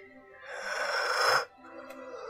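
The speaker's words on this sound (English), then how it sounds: "I keep yawning" A single long, breathy yawn by a person, rising for about a second and then cutting off abruptly, close and fairly quiet, followed by soft murmuring.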